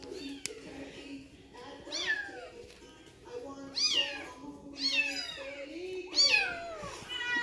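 A Bengal kitten meows several times in high, thin, insistent calls that grow louder toward the end, close by over a soft background murmur.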